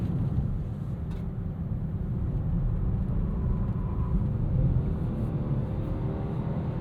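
A 2026 Nissan Sentra SL compact car corners on the road, heard as a steady low engine and road rumble from inside the cabin, even and unbroken.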